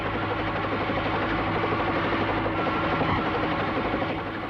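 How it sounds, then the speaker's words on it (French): A steady, loud helicopter drone with a dense rotor chop and engine rumble, continuous and close throughout with no voices. "j'aperçois un hélicoptère"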